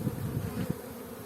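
A honeybee buzzes near a beehive frame, a low droning hum lasting about a second with slight pulsing, close and alone.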